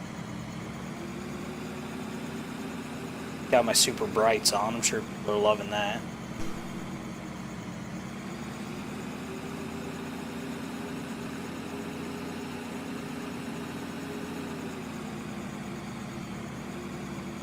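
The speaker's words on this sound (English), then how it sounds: "Just in a huge tractor." A huge tractor's engine in a farming video game drones with a steady, low hum throughout, moderately loud, while someone talks briefly over it partway through.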